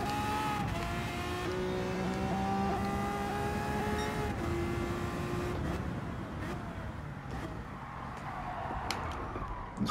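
A Lamborghini V12 Vision GT drifting out of a corner in Gran Turismo 7, its engine a steady loud drone with rising and falling revs, plus tyre noise, held throughout.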